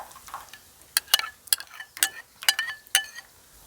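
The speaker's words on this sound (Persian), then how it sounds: "خوب هم میزنم تا همدما بشن." A spoon stirs sauce into Hungarian mushroom soup in a pot, giving a series of sharp, irregular clinks and scrapes against the pot, fairly close and quiet with no talk.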